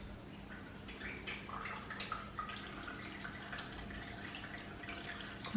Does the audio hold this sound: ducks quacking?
no